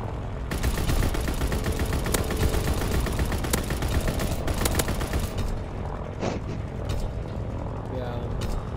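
A ball turret gunner in a wartime shooter video game fires a machine gun, loud rapid bursts rattling for several seconds, then easing into scattered shots and explosions over a rumbling aircraft drone.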